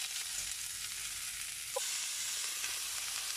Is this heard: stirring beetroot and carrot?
yes